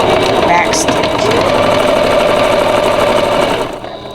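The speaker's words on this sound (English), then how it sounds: "So I'm going to sew," A sewing machine runs fast and close, with a steady whirring hum, while a back stitch is sewn on a Dollar Tree picture frame sewing caddy project, the motor slowing at the very end.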